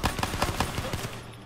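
Rapid automatic gunfire in the online Gun Game mode of Call of Duty: Black Ops 3, a loud burst of evenly spaced shots that trails off after about a second, with no talk.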